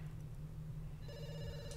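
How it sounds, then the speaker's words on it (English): A telephone rings in The Sims 2 over a steady low hum. A bright, repeating bell tone comes in partway through and is heard alone without talk. "we're getting a phone call while everybody's asleep"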